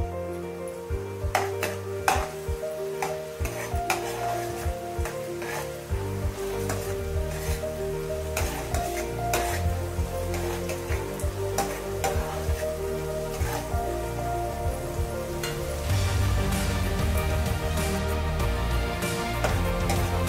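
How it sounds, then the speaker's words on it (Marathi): Finely chopped onion sizzles and fries in a pan for bhendi bhaji, a steady crackling hiss with occasional utensil clinks as it is stirred, heard alone without talk. "मला लाल रंग येईपर्यंत ह्याला परतवून घ्यायचा आहे।"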